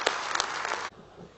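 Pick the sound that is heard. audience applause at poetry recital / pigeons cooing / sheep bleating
audience applause at poetry recital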